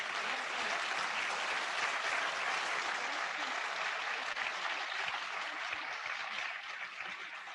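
Sustained audience applause fills a school board meeting room, a dense, steady wash of clapping from many people that holds loud and even throughout and eases only slightly near the end.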